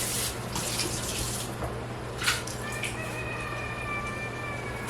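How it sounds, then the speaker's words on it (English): Tap water runs steadily into a sink while a cast iron skillet, scrubbed with salt, is rinsed out, a continuous close hiss and splash with a few brief clatters and no talking. "Now we're gonna wash it out a little bit"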